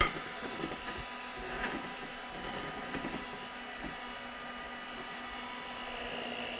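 An electric mixer whirs steadily through lemon ricotta cake batter, a continuous, fairly even motor drone with slight fluctuations and no voices.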